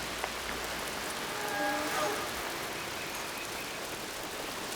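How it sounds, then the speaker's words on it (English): Steady rain falls continuously in the video game Horizon Forbidden West, a dense even hiss of drops with faint tonal game sounds briefly rising in the middle and no one speaking. "No escaping this rain."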